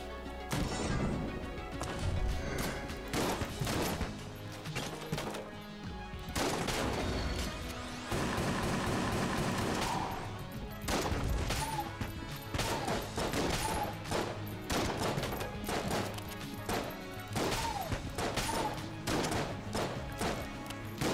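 Light gun firing in the video game Enter the Gungeon, rapid repeated sharp shots and impacts stacked over a steady game music track, dense bursts throughout with brief pauses, loud and close with no talking.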